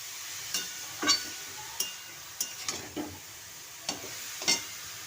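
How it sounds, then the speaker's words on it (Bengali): Beetroot fry being stirred in a frying pan, with a spatula scraping and clinking against the metal at irregular intervals over a soft, steady sizzle, close by with no talking. "এটাকে আমি এখন ভালো করে নেড়ে নেব। সব একসাথে ভালো করে মিশিয়ে নিচ্ছি।"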